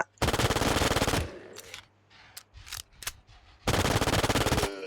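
A B93R pistol fires rapid bursts in the online survival shooter Infestation, loud and close: a long burst, scattered single shots and shorter bursts, then another sustained burst at the end.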